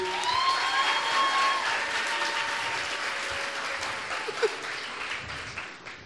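A studio audience at a Spanish-language variety show claps loudly and steadily, a dense wash of applause that holds its level and slowly tapers, with a few faint whistles and shouts.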